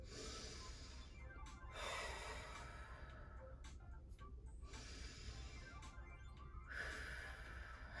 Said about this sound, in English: let's get started with 3 deep diaphragm breaths.